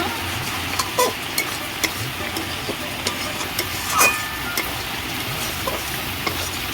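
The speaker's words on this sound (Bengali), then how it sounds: "এইভাবে নেড়ে নেড়ে যতটা পারবো আমি শুকনো করে নেব" Kochu (taro) flower ghonto sizzles steadily as it is stirred and dry-fried in a pan, with a constant close hiss and intermittent scraping taps from the spatula. No one speaks.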